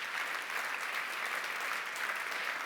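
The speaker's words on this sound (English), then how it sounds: "So I guess we can all give us a round of applause" A full audience applauds at an award ceremony, with steady, dense clapping that holds at an even level throughout, alone and without any voice over it.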